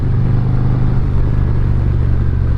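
A Harley motorcycle rides along a wet road, its engine giving a constant loud low rumble with steady road and wind noise throughout.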